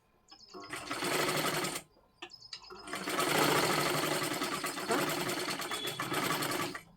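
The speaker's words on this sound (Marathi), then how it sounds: "शिलाई करत करत वरच्या बाजूला आपल्याला जोडून घ्यायची आहे" A sewing machine stitches piping onto a blouse in two loud, steady runs of motor whir. A short pause separates them, the second run lasting longer, and no one speaks.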